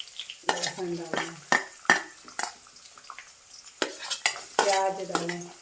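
Garlic fries in hot oil in a kadai while a spoon stirs and scrapes the pan in repeated strokes, with a busy sizzle running underneath.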